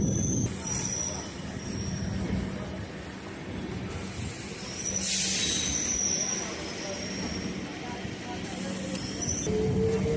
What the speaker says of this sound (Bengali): আর আমাদের ট্রেন ছেড়ে দিল দক্ষিণেশ্বর রেলওয়ে স্টেশন